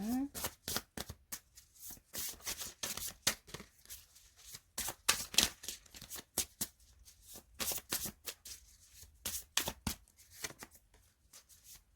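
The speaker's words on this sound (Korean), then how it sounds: "이 카드를 한번 좀 추가적으로 뽑아보도록 하겠습니다" Tarot cards are shuffled and drawn, making crisp, close riffling bursts and sharp slaps in uneven clusters throughout.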